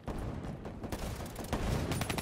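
Rapid bursts of automatic gunfire from a Call of Duty Black Ops 3 multiplayer match, dense and continuous, with overlapping shots crackling close up throughout.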